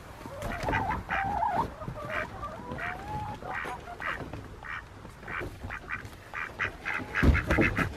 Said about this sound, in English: ducks, chickens